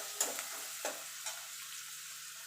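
Ginger and green chilli frying in a little oil for a potato and paneer dish, a faint steady sizzle with three or four soft scraping stirs near the start, quiet and close, no speech.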